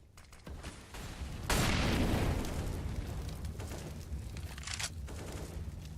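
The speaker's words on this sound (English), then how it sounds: "Just toss the nade real quick." A grenade goes off during a Counter-Strike esports match, a sudden loud blast with a long rumbling tail under continuing game noise and crowd ambience.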